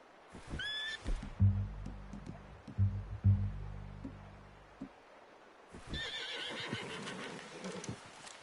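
A horse in a video game whinnies loudly, with clip-clopping hooves and low rumbling beneath, and a second neigh comes near the end against a rustling, noisy outdoor background.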